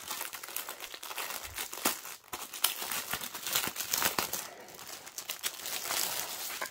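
Stiff plastic packaging of a cross-stitch kit being pulled open where it is glued, a close, continuous run of crinkling and crackling with sharper tearing snaps, no talking.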